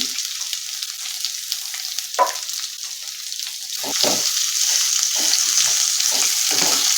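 Chopped onions and ginger-garlic paste sautéing in a pan for cauliflower bhaji, a bright steady hiss that swells louder partway through, with scattered scraping knocks from stirring, close and alone.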